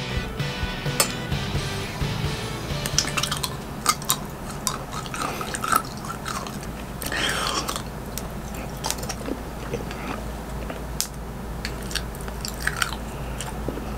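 Someone chews an edible candy ruler shaped like a stencil template, a sweet, caramel-like chewy sugar candy. The chewing is close up and steady, with soft crunching, clicks and sticky mouth sounds and no talking.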